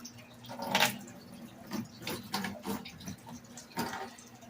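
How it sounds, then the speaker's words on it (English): Water from gold-bearing clay paydirt drains off into a bucket, giving faint intermittent drips and trickles with a few sharper splashes over a quiet low hum. "we're gonna let all that soot and stuff on the top and excess water just go into this here bucket"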